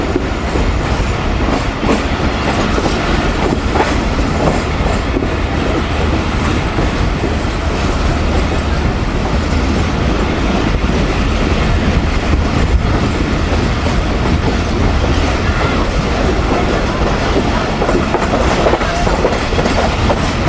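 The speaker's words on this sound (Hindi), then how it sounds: "आहिस्ता आहिस्ता उछलते कूदते ट्रेन हमारी निकल रही है जी फैसलाबाद से" Millat Express passenger train rolling out of Faisalabad on the rails, a loud, steady rumble with continuous clickety-clack of wheels and coach rattling throughout, no voices.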